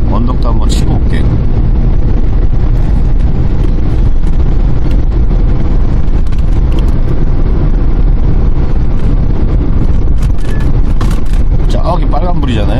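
A 2020 Kia Bongo 3 truck climbs a hill, a loud constant engine drone and road rumble heard from inside the cab with heavy wind buffeting over it and someone talking on top.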